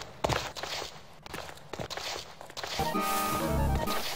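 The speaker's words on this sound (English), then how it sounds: "You can hear her footsteps." An ice witch's footsteps in the video game Stonekeep, a string of heavy, close thuds spaced irregularly, followed by a sustained tonal game sound near the end.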